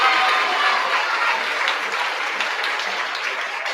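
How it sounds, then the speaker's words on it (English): An audience at a 2018 children's picture book awards ceremony applauds the winning author, dense steady clapping that starts full and eases slightly while continuing throughout. "huge round of applause"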